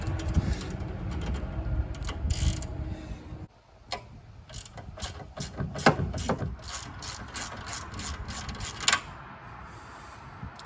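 Ratchet wrench clicking rapidly as it loosens a 17 mm bolt on the outer tie rod of a Mitsubishi Mirage's front end, close up. Bursts of sharp metallic ticks follow a short stretch of duller mechanical handling.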